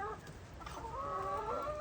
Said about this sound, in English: And you can hear the rooster. There's my rooster over there.